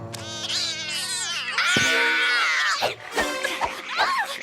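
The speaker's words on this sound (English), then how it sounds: "Sorry, baby cats." Cartoon kittens meow and wail in high, drawn-out cries, several overlapping in quick succession, close and fairly loud with a few short squeaks at the end.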